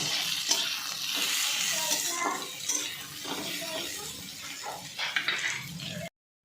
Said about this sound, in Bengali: নাড়াচাড়া করে একটু ভাজা ভাজা করে নিচ্ছি